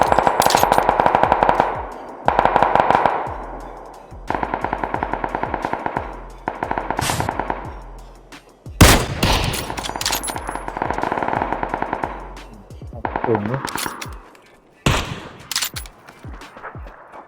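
Gunfire in PUBG comes as loud, close bursts of rapid automatic fire broken by short pauses, with echoing single shots and a heavy blast midway, no talk heard.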